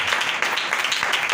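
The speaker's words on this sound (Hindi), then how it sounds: "आए हम जोरदार ताली बजाएं खुदा के कलाम की।" A steady wash of applause from a church congregation at a Sunday service, dense and continuous clapping with no voices standing out.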